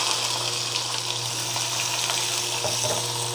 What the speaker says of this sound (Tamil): இப்போது கருவேப்பிலை போட்டுக்கலாம் போட்டு பெரிய வெங்காயம் போட்டுக்கலாம்